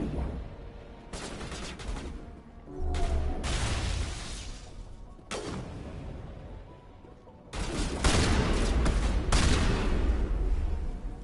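Gunfire in the video game Mass Effect 1, bursts of rapid shots and blasts in several loud stretches separated by short quieter gaps, with some speech faintly mixed in.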